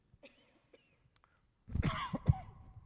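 A couple of close, muffled coughs after a near-silent stretch with a few faint ticks.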